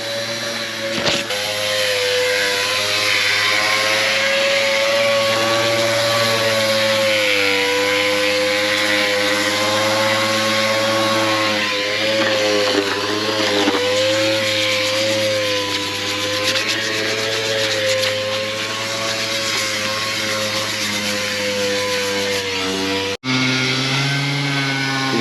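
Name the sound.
orbital sander sanding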